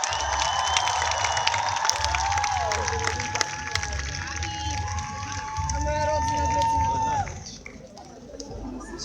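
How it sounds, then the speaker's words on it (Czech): A crowd at a live stage event applauds steadily and densely with some cheering, a loud, sustained wash of clapping that thins out near the end, with tonal sounds and voices mixed in. "zatleskejte jim ještě jednou."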